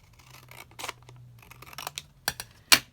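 Scissors snip through leftover printed paper ephemera from a craft kit in a few short, close, crisp cuts, the final snips the sharpest and loudest, with no talking.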